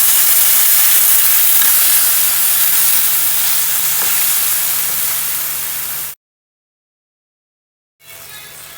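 Canned 555 tuna sisig fries and gets stirred in a pan, giving a loud, dense, continuous sizzling hiss. The sound cuts out completely for about two seconds, then the frying comes back.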